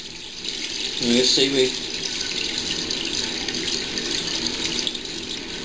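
Water rushes from a toilet being flushed in a house whose plumbing riser to the main sewer line had been blocked, a steady gushing flow with a louder surge early on, heard under a person speaking.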